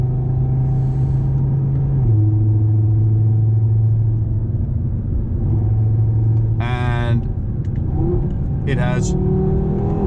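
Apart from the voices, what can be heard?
tuned Audi TT engine accelerating with turbo boost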